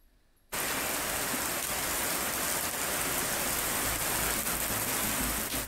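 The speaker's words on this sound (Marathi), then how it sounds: "अवकाळी पावसाच्या सरी कोसळल्या आहेत" Unseasonal rain showers pour down suddenly and steadily, a dense, loud, continuous patter on surfaces with no voices.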